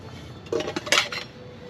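Metal mess kit gear, a tin cup, pot and issued plate, clinks and rattles in a short burst of handling, a few close metallic knocks and scrapes with no talk.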